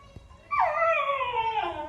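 A pet puppy cries with one long, wavering whimper that starts abruptly and stays loud and close for over a second, with nothing else around it.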